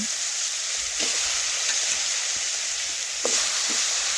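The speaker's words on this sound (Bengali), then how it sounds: "এখন মাছের কাঁটাগুলো আমি তেলের মধ্যে দিয়ে দিচ্ছি আর ভালোভাবে একটু ভেজে নিচ্ছি" Steady hiss of fish bones frying in hot oil, with a few soft clicks and taps, continuous and close, with no voices.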